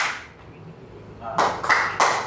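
A group at a school learning-community gathering at SMP N 1 Weru claps out a counted pattern, giving three sharp, loud bursts in quick succession after a quieter stretch with faint voices at the start.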